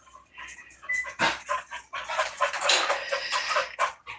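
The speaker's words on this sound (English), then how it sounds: "Leave the puppy alone. They like to overplay." A puppy playing, with yelps, whimpers and scuffling in short bursts, loud and close, and no talking.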